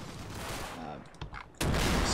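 Gunfire is exchanged in a war video game: dense, rolling bursts of shots, then a brief lull with a few scattered cracks before a loud, sustained burst erupts again.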